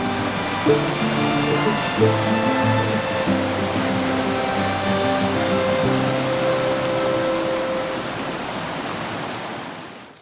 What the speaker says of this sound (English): Raining, but it's dry in this tunnel.